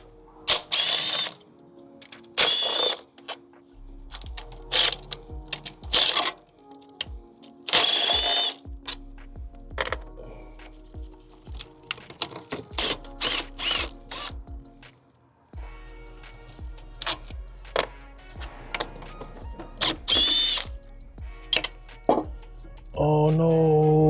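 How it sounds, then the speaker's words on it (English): A power tool whirs in short bursts while removing valve cover bolts on a Toyota Camry, with clanks and rattling of the tool and parts between the runs. "We can go ahead and take out the bolts on the sides that's holding the valve cover."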